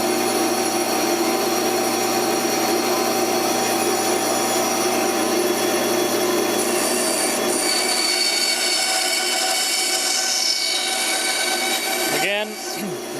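A power saw rough cuts a wooden dragster body, a steady loud whine of the blade biting wood running nearly throughout, ending in a short descending screech as the cut finishes.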